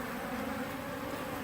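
Angry honey bees swarming around a caged queen they are rejecting, a dense, faint, continuous buzzing hum close by with no voices.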